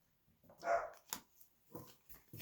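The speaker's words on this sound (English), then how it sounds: "Sorry about my dog barking." A dog barks a few times in short, sharp bursts at a moderate distance, with quiet pauses between the barks.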